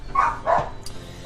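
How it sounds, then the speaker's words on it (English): A dog barks outside, a few loud, separate barks spaced about a quarter second apart and a final bark at the end, fairly close and clear with no talking. "my dog's barking outside."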